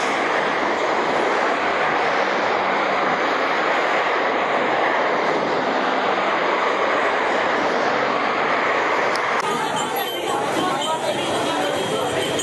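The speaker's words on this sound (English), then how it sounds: "This is the rush hour traffic in Mumbai slums." Rush hour traffic in the Mumbai slums, mostly scooters and motorcycles, forms a continuous loud wash of engine and road noise, close and unbroken, with the mix shifting slightly near the end.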